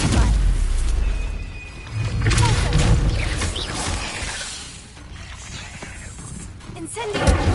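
A Stupefy spell is cast in Hogwarts Legacy, a booming magical blast with a shattering crackle and a rumbling tail that swells and fades over several seconds amid game effects.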